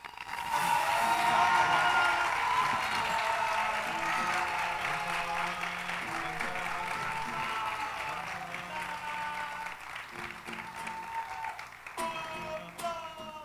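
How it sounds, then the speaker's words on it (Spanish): Audience applause for a youth murga performance, a dense wash of clapping that swells early and slowly fades, with a few voices over it. "fuertísimo ese aplauso."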